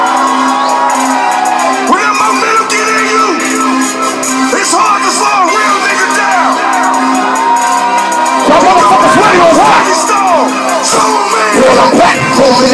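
Concert crowd at a show in Crest Hill, Illinois, cheering, yelling and whooping, loud and continuous, with a big surge of shouts near the end.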